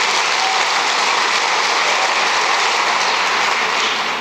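Church audience applauding at a religious gathering, a dense, steady wash of clapping that stays loud and continuous throughout before easing slightly at the end.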